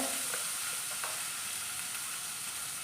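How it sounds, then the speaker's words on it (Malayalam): Grated coconut fries in oil for a beetroot curry, giving a steady close sizzle with a few faint stirring clicks. "ഇനി നമുക്ക് ആ തേങ്ങായും കൂടെ അതിനകത്ത് ഇട്ട് വേണം നമുക്കൊന്ന് മൂപ്പിച്ചെടുക്കണം ആ എണ്ണയ്ക്കകത്തിട്ട് തന്നെ"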